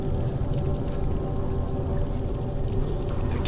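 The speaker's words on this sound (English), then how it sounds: "Oh, that's just water coming down." Water pours down inside a cave in the video game Kholat, a loud continuous rushing wash with a dense low rumble that holds steady throughout, with no voices.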